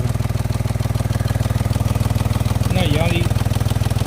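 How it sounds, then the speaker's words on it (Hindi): A Mahindra XUV 3XO engine idles with a steady, rapid knocking thump close by, running evenly throughout while someone speaks briefly over it. "तो ये धक धक धक धक आवाज़ आ रही है, यहाँ होता है इंजन वो यहाँ होता है।"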